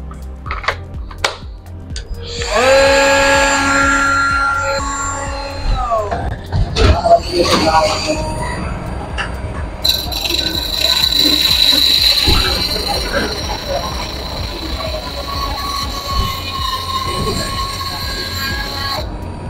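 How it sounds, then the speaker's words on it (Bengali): A small 3-inch grinder fitted with a cut-off disc slices through iron: a loud, high whine rises near the start, falters briefly, then settles into a long, steady screeching cut that lasts to the end. "আমরা কিভাবে আমাদের 3 ইঞ্চি গ্রাইন্ডিং মেশিন বা কাট অফ টুলস দিয়ে খুব সহজে একটি লোহা কাটলাম"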